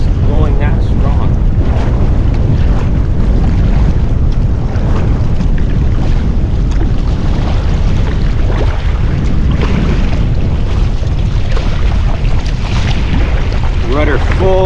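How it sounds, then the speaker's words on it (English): Strong wind roars over open water during a solo paddle toward Toba Inlet, with constant loud buffeting on the microphone and a steady wash of waves. "this horrendous wind which I cannot keep my bow into"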